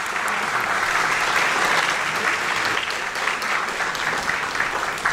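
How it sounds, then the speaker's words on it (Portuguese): Sustained applause for a professor at a scientific initiation conference, a steady dense roar of many hands clapping that holds evenly throughout with no talk standing out. "Peço mais uma salva de palmas ao professor"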